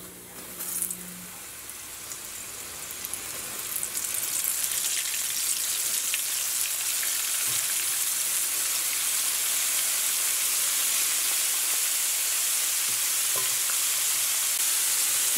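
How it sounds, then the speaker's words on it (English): Tiny baby fish, dusted in flour, frying in hot oil with a steady, dense sizzle that swells in the first few seconds and then holds loud and continuous, with a few faint clinks along the way. "Now this is not gonna take very long to fry, maybe about 2 to 3 minutes, because it's a very tiny fish"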